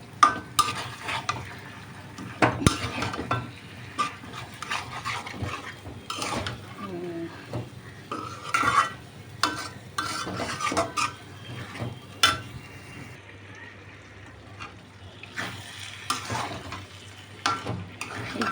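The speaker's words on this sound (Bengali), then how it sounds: "এবার নেড়ে চেড়ে মিশিয়ে আলুগুলো সিদ্ধ করে নেব আর শুকনো শুকনো করে ভাজি করবো" Beef and potatoes fry in a pan while a spatula stirs and scrapes them, making repeated clanks and scrapes over a continuous sizzle.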